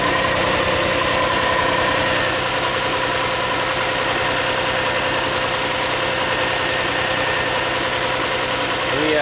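An Audi A6 wagon engine idles with a misfire, a loud, close, rough rumble with an uneven pulsing beat running steadily throughout.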